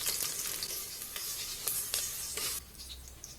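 Onion frying in hot cooking oil makes a steady, bright sizzling hiss, punctuated by brief crackling bursts before it settles lower.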